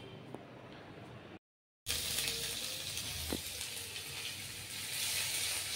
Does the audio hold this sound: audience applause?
no